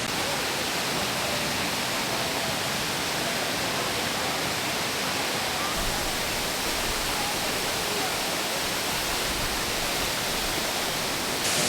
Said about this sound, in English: just the rock surface leading up to the wall of this small waterfall